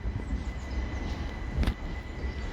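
A Class 377 electric train departing Horsham station toward Portsmouth gives a steady rumble with a faint high whine, plus a brief louder hiss or clank midway, heard from the platform without talk.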